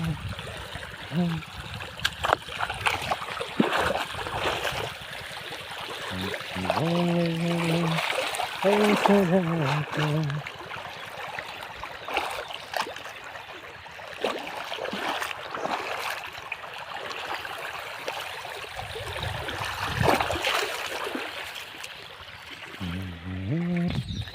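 River water flows and trickles steadily nearby, a soft continuous rush, while people talk intermittently over it.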